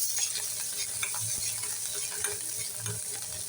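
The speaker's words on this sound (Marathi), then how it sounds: "चांगलं परतून घेणार आहोत." Grated fresh coconut and chilli powder being sautéed in a pan, a low sizzle with repeated scraping and clicking of a spatula against the metal, close and continuous.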